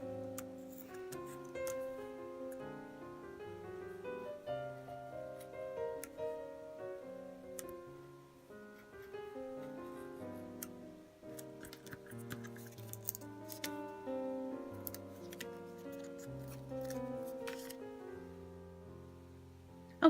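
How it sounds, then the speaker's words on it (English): X-Acto knife cutting the inside of a paper doll hat on a cutting mat, faint irregular ticks and scrapes of the blade scattered throughout, quiet and close under soft background music. "now it's time to cut the inside space out of the hat"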